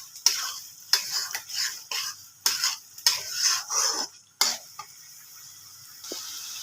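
A spoon scrapes and stirs a fish curry with ginger and turmeric in a pan, in about seven sharp, rhythmic strokes over a soft sizzle that fades near the end.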